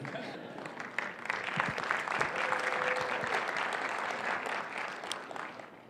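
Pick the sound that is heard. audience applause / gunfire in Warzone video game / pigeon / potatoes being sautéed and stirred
audience applause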